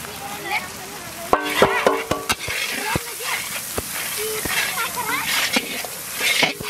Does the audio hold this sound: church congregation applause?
no